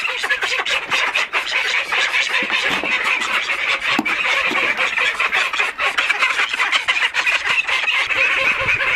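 Chickens held in a temporary coop cluck loudly and continuously, a dense close-up chorus of overlapping calls with no pauses.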